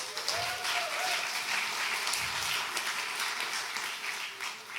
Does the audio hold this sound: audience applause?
yes